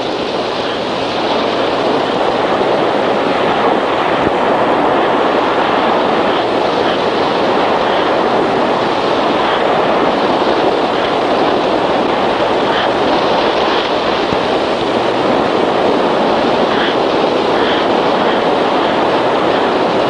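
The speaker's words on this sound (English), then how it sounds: "When a wave washes up on the beach, sand grains are lifted up by the water." Ocean waves washing up on a sandy beach, a loud continuous roar of surf lasting the whole stretch with no pauses, near and steady with some wind rumble and no voices.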